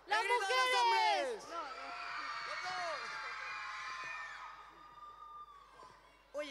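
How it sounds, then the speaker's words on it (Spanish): At a school festival, an audience of men bursts into a loud shouted cheer that swells into whoops and crowd noise, then fades into a sustained murmur of voices, with a brief shout at the end. "¡El grito de los hombres!"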